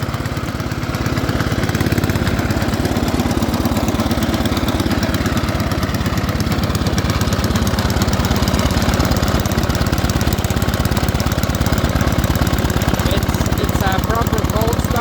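Ariens ST504 snowblower engine running just after a cold start, a loud, steady rapid chugging close by that continues without break throughout.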